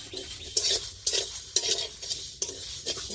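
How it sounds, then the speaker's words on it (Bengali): Coriander, fennel, cumin, panch phoron and dried chillies dry-frying together in a wok, with repeated scraping stir strokes of a spatula against the pan over a soft sizzle, no talking. "এবারে ভেজে নেব ধনে মৌরি জিরে আর পাঁচ ফোড়ন আর শুকনো লঙ্কা একসাথে ভেজে নেব"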